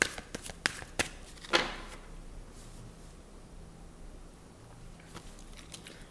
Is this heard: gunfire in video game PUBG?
no